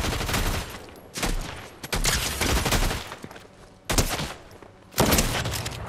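Bursts of gunfire from the video game Fortnite, loud and dense, with rapid volleys broken by brief pauses and several sharp new bursts near the end, no voices.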